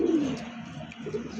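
Pigeons coo softly nearby, a low throaty warble at the start followed by faint murmuring calls over a dull background.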